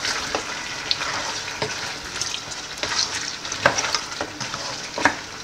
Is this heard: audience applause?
no